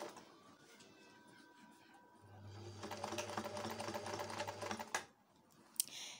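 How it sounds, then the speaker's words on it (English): A sewing machine stitches bustier fabric along marked lines for about two and a half seconds, a steady close motor whir with a fast regular needle rhythm, followed by a few faint handling clicks. "Pin it down, then start sewing."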